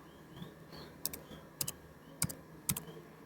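A computer keyboard typing a short command: four crisp, evenly spaced keystrokes, close and fairly quiet against a soft room hiss.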